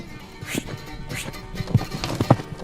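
Horses trotting in a riding training session for a jousting-style competition, with soft uneven hoof clops and a few sharper hits, heard at mid distance over a busy outdoor background.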